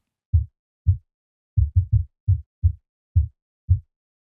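Synthesizer noise bandpassed between 70 and 123 hertz for a breaks track, a series of short low thuds in an uneven rhythm, dry and alone like muffled kick pulses.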